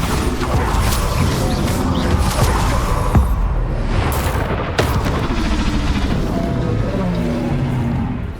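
Explosive Bombarda spell blasts in the Hogwarts Legacy video game, dense crashing booms with sharp bursts near the third and fifth seconds over a continuous loud clatter of game combat and mechanical noise.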